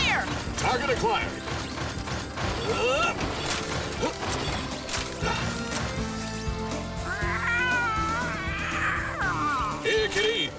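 A cat meows several times amid a busy, cluttered mix of clanks and crashes, with voices talking over the noise, in a kids' cartoon.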